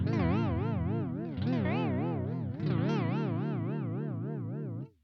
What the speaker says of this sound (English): And vibrato. Sounds amazing.